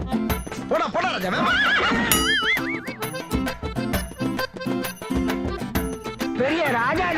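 A horse on Marina Beach, Chennai, neighs loudly and repeatedly close by, with clip-clopping hooves and a jingling bell. Voices and other sounds mix in with it.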